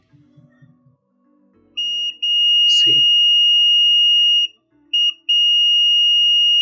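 A sustained electronic buzzer tone from a multimeter's continuity range sounds, cuts out briefly, then resumes steadily, testing a shorted MOSFET in a d&b D20 amplifier; someone speaks briefly before and during it.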